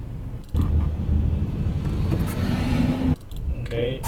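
A car driving along, a low, steady road rumble inside the cabin with brief breaks, while a voice speaks over it.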